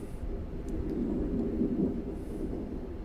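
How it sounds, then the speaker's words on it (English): A steady low rumble of a freight train rolling past at a distance, continuous and heavy throughout, with no voices. "Another freight train going past."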